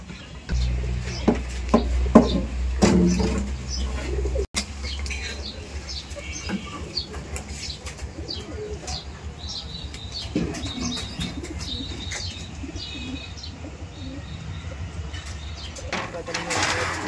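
Rajshahi Giribaz pigeons flap their wings in bursts and give occasional soft coos and chirps outdoors. Loud low rumbling handling noise comes early, and people talk throughout.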